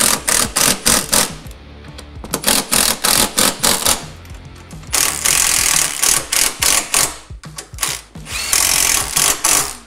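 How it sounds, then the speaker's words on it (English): A power tool drives factory bolts on a Can-Am Renegade 1000 XXC ATV in short, loud, repeated bursts with brief pauses between them, close up and without talk. "All right, so we need to tighten up the factory bolts."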